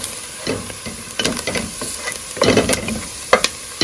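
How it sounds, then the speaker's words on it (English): Onions sautéing in melted butter in a pot, with a continuous sizzle broken by several scraping stirs of a utensil against the pot. "you start with butter, you melt it, and then you add some onions to sweat"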